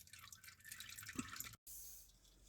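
Transmission fluid from a Mazda5 drains from the underside into a catch pan with a steady liquid trickle and a dripping patter, close up and moderately loud, cutting out briefly before the flow resumes.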